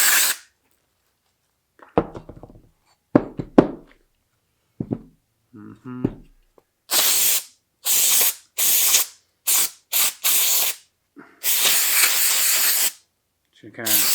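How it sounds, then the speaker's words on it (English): Brake cleaner sprays from an aerosol can into the piston ring grooves during a piston and rod install. Several loud hissing bursts of one to two seconds each follow a few quieter clicks and handling noises. "So now all I'm going to do is take some brake clean."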